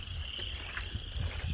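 Frogs calling from a marsh at a nature center in Defiance, Ohio, a steady chorus of trilling calls that stays close and fairly constant, with low rumbling underneath.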